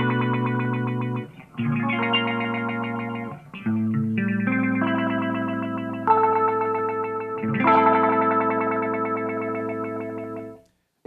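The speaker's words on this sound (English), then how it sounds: "This is an effect where depending on how hard you play, it'll either speed up or slow down" Electric guitar played through an Eventide ModFactor mod filter pedal, with sustained chords and notes. A pulsing, sweeping modulation shifts with picking strength. It sounds close and loud, with short gaps between phrases and no talking.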